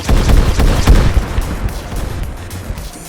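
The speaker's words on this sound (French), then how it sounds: "les sœurs sortirent de leur couvert et ouvrirent le feu." A gunfire sound effect: rapid bursts crack out in quick succession, loud and close, then thin into scattered shots over a rumbling background.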